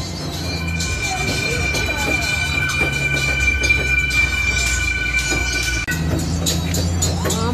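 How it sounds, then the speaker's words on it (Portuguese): A small festive tourist train rumbles past close by, its wheels squealing in high steady tones, with voices of people nearby. "Olha o trem."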